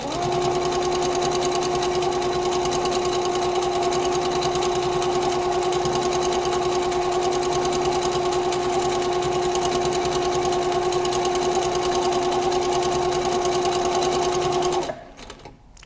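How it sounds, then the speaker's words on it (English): A Pfaff Powerquilter sewing machine stitches steadily through a free motion quilting design, its close, even motor hum and rapid needle rhythm running alone for about fifteen seconds before stopping abruptly. "I typically sew between 30 and 40 when I'm doing bigger free motion designs like this."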